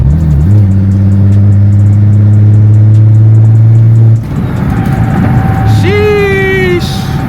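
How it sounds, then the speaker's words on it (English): Inside a BMW M340i on the move, the engine drones at a steady low pitch, then shifts, and the revs climb in a rising turbo whine. Loud and close throughout, with no talk over it. "listen to the car and how it sounds"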